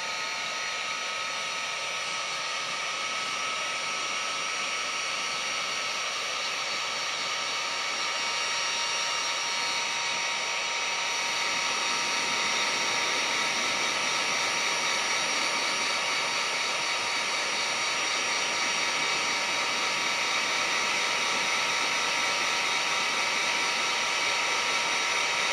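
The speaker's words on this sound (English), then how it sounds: "Take your heat gun." A heat gun shrinks heat-shrink tubing on a marlin lure cable, blowing with a loud, continuous, even hiss and roar from start to finish.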